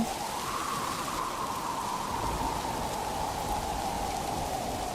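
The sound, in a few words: rain and storm in an audio drama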